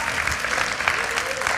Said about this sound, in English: Yeah, you can applaud Jesus.